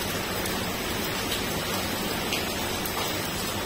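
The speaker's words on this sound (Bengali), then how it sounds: "কিন্তু অনেক জোরে বৃষ্টি পড়ছে" Heavy rain pours down outdoors, a dense, even hiss of falling water that holds steady and fairly loud from start to finish, with nothing else standing out.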